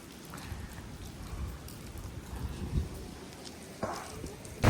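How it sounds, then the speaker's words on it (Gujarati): Heavy monsoon rain pours steadily at Nagoa beach in Diu, a dense broadband hiss with a few louder gusts or splashes near the end. "વરસાદ બહુ પડે છે નાગવા બીચ ઉપર"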